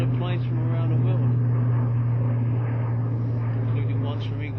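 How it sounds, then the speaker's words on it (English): A steady, droning engine hum from a plane near an airport, loud and continuous throughout, with people talking over it. "Nice to see some of the planes from around the world,"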